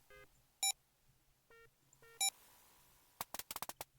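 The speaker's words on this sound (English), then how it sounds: "You can use your number pad to enter your code." Number pad code entry in the Leisure Suit Larry 5 video game produces several separate electronic tone beeps, followed by a rapid cluster of sharp clicks at the end, with a faint hum underneath.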